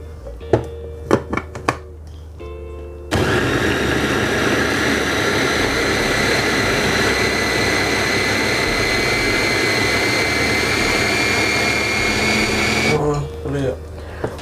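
A blender grinds shallots, garlic and candlenuts with a little water into spice paste, a loud steady whirring roar lasting about ten seconds, with short knocks and clatter before and after it.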